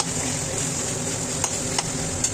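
Chicken sautés in hot oil in a pan, producing a loud, continuous close-up sizzle over a few seconds, with a couple of faint ticks near the end.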